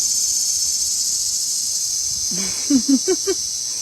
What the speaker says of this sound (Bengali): ঝিঝি পোকা